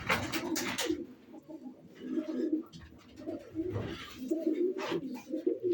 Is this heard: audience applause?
no